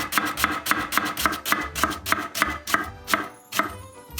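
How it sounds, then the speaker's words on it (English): A knife chops an onion finely on a cutting board in a fast, even rhythm of crisp, close taps, roughly a dozen strokes with a short pause near the end. "we make a cut through and then we rock the knife down"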